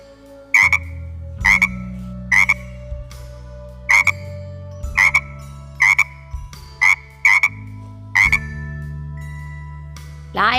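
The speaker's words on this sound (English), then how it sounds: "Frog." Loud, near frog croaks repeat in a steady series of about a dozen short calls over a low droning background.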